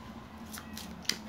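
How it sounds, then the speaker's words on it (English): Cards from the board game Sanitarium are shuffled by hand, a few quick papery riffling swishes close by with a crisp snap near the end. "I'm going to shuffle this randomly back in"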